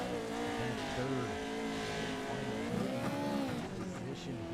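Onboard the number 69 race car, the engine drones loudly and continuously, its pitch rising and falling through gear changes and corners, with tyre noise underneath and a commentator's voice faintly present.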